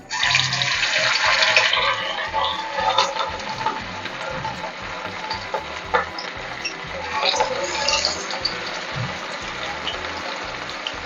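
Raw marinated chicken pieces for chicken 65 drop into hot oil in a kadai and fry with a steady, hissing sizzle that swells and eases over several seconds, close and fairly loud.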